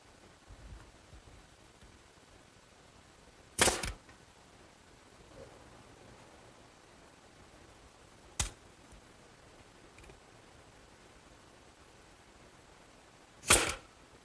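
Three sharp, isolated impacts spaced several seconds apart as finish nails fasten cleats to MDO board, each a crisp snap over a quiet background.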